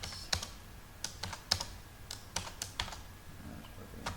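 Close, quiet clicks of a computer keyboard as text is typed, a short run of about a dozen separate keystrokes with uneven spacing and no talking.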